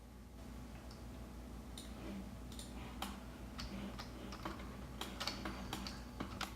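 Close computer keyboard typing while playing Planet Coaster, soft irregular clicks and bursts of keystrokes over a quiet background hum, becoming denser toward the end.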